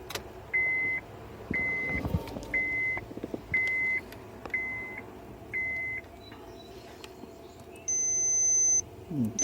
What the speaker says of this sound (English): Now I'll turn on the ignition and see what happens.